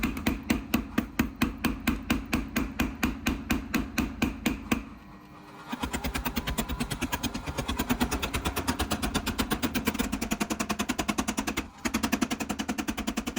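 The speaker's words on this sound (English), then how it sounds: "hammer time. 40-pound little giant, 250 blows per minute." A 40-pound Little Giant power hammer pounds a Damascus billet forged from drill bits, a rapid, steady stream of heavy metallic blows at about 250 per minute, with a brief pause and restart, loud and close.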